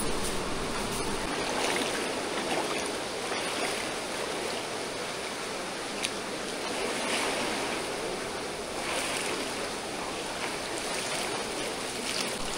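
A river in Pangasinan with clear water flowing, a steady broad rushing wash, close and constant throughout, no voices.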